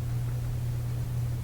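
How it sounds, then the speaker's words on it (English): A Collins 75A-4 radio receiver with a suspected component fault puts out steady hissing static over a low, constant hum. The noise continues without a break. "There's definitely some quite a bit of static coming out of the radio at"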